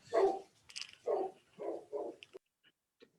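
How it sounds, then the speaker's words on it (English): A dog barks in a short series of four or five loud, close barks, evenly spaced, followed by a few faint soft sounds and near silence. "The dog agrees with me."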